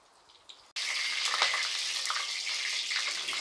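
Fenugreek and fennel seeds drop into hot oil for tempering, with a sudden loud sizzle that holds as a steady, close, crackling hiss after a brief quiet start.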